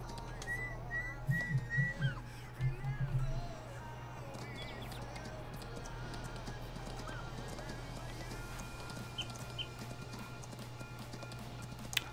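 Horse hooves clip-clop in a farming simulator game, a quick rhythmic run of hoofbeats up front that fades into a steady background hum with faint whistling.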